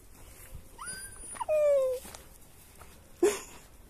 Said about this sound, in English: Go, cute puppies!